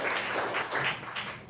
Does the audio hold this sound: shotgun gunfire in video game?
no